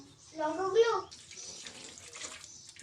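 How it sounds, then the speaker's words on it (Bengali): Running tap water splashes briefly as curry leaves are rinsed in a home kitchen, a short burst of water flow near the start, followed by quieter background noise. "কারি পাতাগুলো ধুয়ে রাখো এখানে প্লেটে রাখো ধুয়ে নাও"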